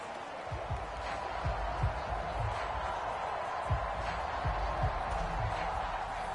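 A steady, roaring stadium crowd fills an EA Sports NFL football game, with dull rhythmic thumps pulsing beneath the din and a commentator's voice faintly present.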